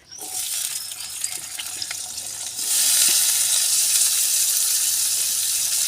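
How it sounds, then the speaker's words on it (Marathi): Chopped onion hits a kadhai of hot oil, first a steady sizzle, then a louder, denser frying hiss that takes over at about three seconds and holds to the end, with no voices. "तेल गरम झाले आपलं आपण कांदा टाकून घेऊ"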